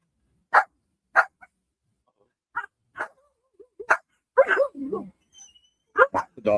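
Several dogs bark in sharp, separate bursts with whimpers and yips between them, close and loud, with a person talking to them in the middle.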